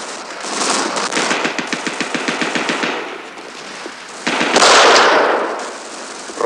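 Automatic gunfire in a 1967 Soviet war film scene: rapid machine-gun bursts of sharp evenly spaced cracks, then a louder blast of noisy firing, loud and close, with no speech.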